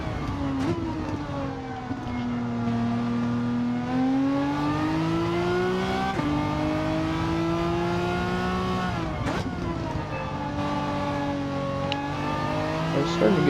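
A race car in a McGain Trophy event on Blue Moon Speedway, an oval track in a driving video game, holds a steady, loud engine whine for the whole stretch, its pitch rising and dipping through gear changes and corners, with no talk.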